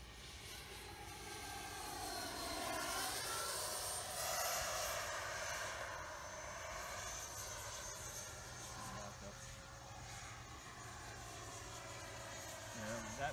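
A Freewing Avanti S 80mm electric ducted fan RC sport jet makes a slow low pass with flaps and gear down, its steady whine rising and falling as it passes at a distance, with a voice talking faintly over it.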